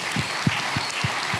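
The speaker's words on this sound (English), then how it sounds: "Once again, round of applause for Sunny Suljic." Audience applause at a Comic Con Baltics 2023 convention panel, loud, steady clapping from a crowd in a hall, with a few louder claps standing out in an even rhythm.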